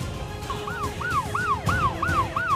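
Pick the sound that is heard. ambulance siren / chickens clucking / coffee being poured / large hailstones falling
ambulance siren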